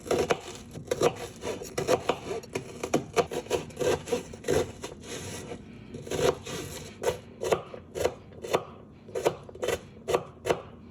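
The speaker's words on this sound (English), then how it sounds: "I definitely need a bit more onion, so I'm just gonna grab one. Just cut a bit to grab the portion that I need." A knife cuts an onion on a wooden board for Persian-style macaroni, with crisp close chops in irregular bursts, some rapid runs and short pauses, and no talk.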